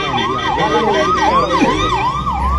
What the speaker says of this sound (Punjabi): ਐਂਬੂਲੈਂਸ ਤਾਂ ਜਾਵੇ